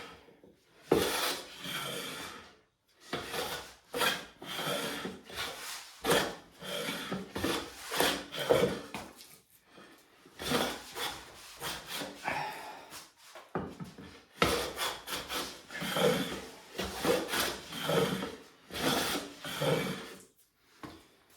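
A hand plane fitted with an indexable carbide blade scrapes across wood without cutting, giving repeated rasping strokes in bursts with short pauses between them, close and fairly quiet.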